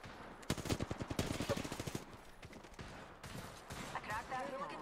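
Automatic gunfire in Apex Legends, a rapid, evenly spaced string of close, sharp shots followed by scattered further bursts, with a voice speaking partway through.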